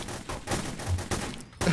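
Rapid bursts of gunfire in the office level of the multiplayer shooter The Hidden, several sharp volleys in quick succession, fairly loud and close with brief gaps between bursts.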